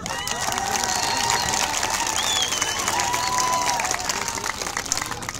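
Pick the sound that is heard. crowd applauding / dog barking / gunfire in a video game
crowd applauding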